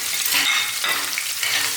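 Onion, ginger, garlic and green chili sautéing in hot oil give a steady, loud, close sizzle that hisses continuously throughout, with faint stirring movements beneath and no pauses.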